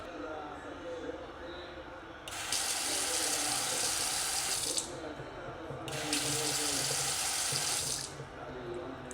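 An automatic sensor water tap in a home kitchen gushes twice in loud, steady bursts of a few seconds each, switching on and off abruptly, with a voice talking faintly in the background.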